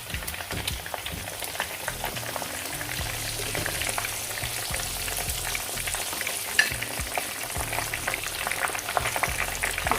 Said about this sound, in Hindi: अब इसको टर्न करके दूसरी साइड फ्राई करेंगे।